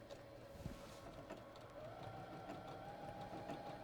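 A sewing machine stitching fabric, running at up to 900 stitches a minute, hums steadily and quietly with a faint mechanical whir throughout, no voices over it.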